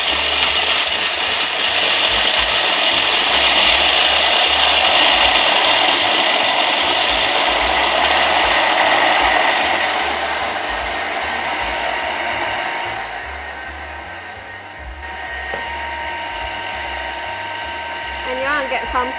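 A Thermomix runs on speed 6 mixing a choux pastry mixture, a loud whirring churn that gradually eases and settles into a lower motor hum, with a voice briefly audible late on.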